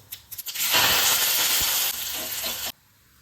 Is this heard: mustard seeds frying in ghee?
yes